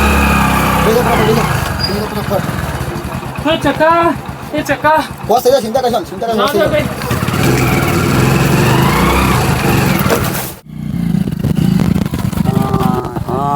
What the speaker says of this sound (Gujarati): બાઈક ચાલુ કરો જપી